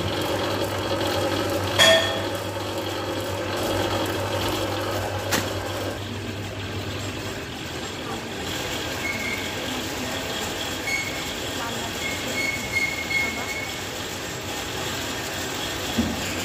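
A shevai (vermicelli) making machine running in a workshop in Nashik, Maharashtra, a steady mechanical rumble and whir with a sustained hum, a couple of brief clanks, loud and continuous.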